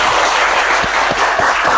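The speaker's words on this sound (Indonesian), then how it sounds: "Tepuk tangan untuk hari ini." A classroom of students applauds, loud and close, with dense steady clapping throughout the short clip.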